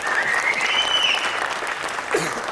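Audience clapping at a Tamil movie audio launch event, dense continuous applause from a large crowd in a hall, steady and fairly loud with faint whistles over it.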